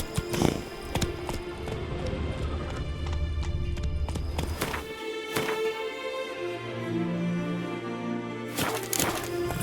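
Geralt's horse Roach gallops in The Witcher 3: Blood & Wine, its hooves beating a steady clip-clop rhythm close by over a bed of game music and ambience, with a few louder impacts.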